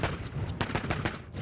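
A rapid burst of six sharp gunshots in 1.7 seconds, loud and close, fired in quick succession with no speech.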